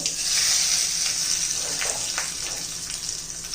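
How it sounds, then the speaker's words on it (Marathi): Hot tempering of cumin, mustard seeds and curry leaves poured onto a breakfast chutney gives a steady, close sizzling crackle that holds loud throughout, with no talk over it. "हे पहा आपली फोडणी तयार झालेली आहे आता चटणीवर घालून घेऊया"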